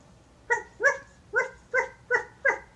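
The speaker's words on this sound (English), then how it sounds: "That is a doggy." A dog barks six times in a steady, fairly evenly spaced series of sharp, mid-pitched barks, close by with no talking.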